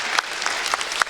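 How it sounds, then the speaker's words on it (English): Audience at a school district community forum clapping, a brief burst of scattered applause with a few distinct sharp claps standing out over the steady patter. "Let's give a round of applause for that part."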